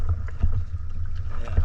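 An inflatable kayak being paddled on a deep Scottish loch, with low rumbling wind buffeting the microphone and soft rhythmic paddle strokes and water splashes close by.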